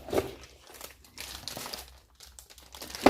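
Paper wrapping crinkles and rustles in short intermittent bursts while a 4G Huawei router is unboxed, close and quiet, with a louder crackle at the very end.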